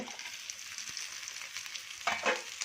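Fish frying in a pan gives off a steady, close sizzling hiss with small crackles, then swells briefly into a louder burst of spitting near the end, with no talking.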